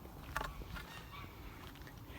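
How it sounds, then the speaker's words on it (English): A few faint goose honks sound at a distance over quiet morning lakeside background noise, the loudest call coming early. "Geese are very noisy this morning."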